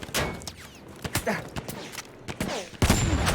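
Rapid gunfire in the video game Battlefield 1, a string of sharp close shots in quick succession, with a heavier blast near the end.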